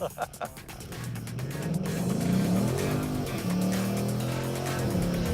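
A sports car's engine growls and builds into a rising, revving acceleration, loud and close, with road noise and a second vehicle's tone layered in.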